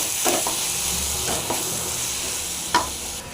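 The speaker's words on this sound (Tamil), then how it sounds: "தக்காளி சேர்த்துட்டு நல்லா ஃப்ரை ஆகிடுங்க" Tomatoes frying with mutton intestine in a pan make a close, steady sizzle broken by three or four sharp spatula scrapes.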